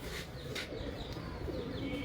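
Breeder pigeons coo softly in their loft, a few low, rounded calls rising over a constant background hum, faint and fairly close, with no talk.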